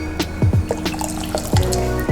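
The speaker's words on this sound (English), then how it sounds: "I'm using cornstarch, I'm gonna add it in the water." Water pouring and splashing into a container in a home kitchen while cornstarch is mixed in for a gluten-free chicken katsu curry, with a few short drips and fills close by.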